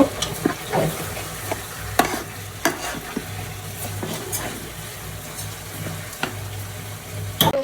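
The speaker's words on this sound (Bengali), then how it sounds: "পোলাওয়ের চালটা একদম ভাজা ভাজা হইতে নিচ্ছে" Pulao rice fries in a hot pan with a soft, constant sizzle, while a spoon stirs and scrapes it, making repeated sharp knocks at an uneven pace and no voices.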